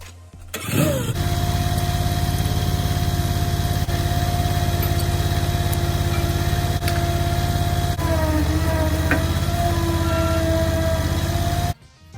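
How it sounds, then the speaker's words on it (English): A skid steer engine starts and then runs at a steady high-pitched drone while pulling a tent stake with a chain on a 40 by 100 foot pole tent job, loud and close, with a brief load shift before it cuts off. "I've got my skid steer here with what Chuck made me from Attachments and More"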